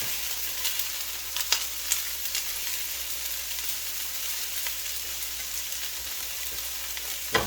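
Bean sprouts fry quickly in a flat pan, a steady close hissing sizzle with a few sharp clicks as they are flipped.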